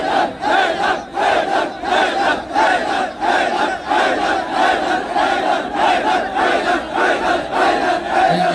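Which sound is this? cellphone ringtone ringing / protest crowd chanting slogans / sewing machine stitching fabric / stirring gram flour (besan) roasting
protest crowd chanting slogans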